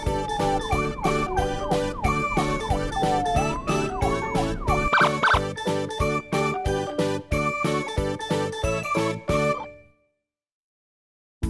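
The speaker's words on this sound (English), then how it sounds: "Police car." A wailing siren, like a police car's, sounds loud and close over a dense, rhythmic musical backing, then cuts to silence near the end.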